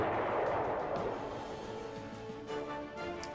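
Heavy anti-aircraft cannon fire in the WWII strategy game Panzer Corps: a loud booming blast opens, then a rumbling tail and a couple of lighter reports near the end, with no talking.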